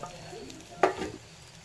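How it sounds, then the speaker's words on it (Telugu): Ginger paste fries in a pan with a soft sizzle, and one short, sharp scrape of a spoon stirring it rises briefly midway. "అల్లం ముద్ద వేసుకొని మంచిగా వేగిన తర్వాత"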